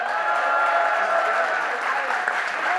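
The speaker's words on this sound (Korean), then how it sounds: "박수 부탁드립니다" Party members applaud at a political party founding convention, a close, loud and steady roar of clapping from a large hall crowd, unbroken for the few seconds heard.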